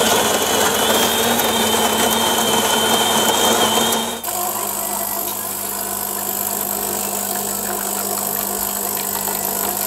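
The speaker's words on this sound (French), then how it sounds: "Et écoutez bien, par rapport aux précédentes machines, la machine est très silencieuse." A DeLonghi PrimaDonna Elite ECAM650.75.MS coffee machine grinds beans with a steady, fairly quiet mechanical whirr that drops to a lower, smoother hum partway through and continues alone.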